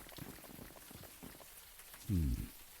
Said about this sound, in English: Now that it's out of the open air and the warm rain is coming down